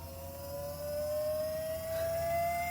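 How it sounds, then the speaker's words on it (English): The electric power steering motor on a 1971 Plymouth Road Runner winding up, a steady jet-like whine rising slowly in pitch over a low background hum. "You'll hear the motor wind."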